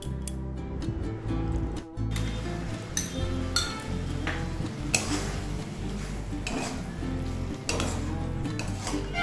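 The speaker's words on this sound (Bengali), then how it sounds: "এবার এতে এটা ঢেলে দেব, ঢেলে দিচ্ছি, দইটা ঢেলে দিলাম।" Yogurt (curd) poured into a hot pan with potol (pointed gourd) for a vegetarian dinner dish, a crackling sizzle under spoon scrapes and clinks against the pan, with a low steady hum and sharp bursts as it is stirred.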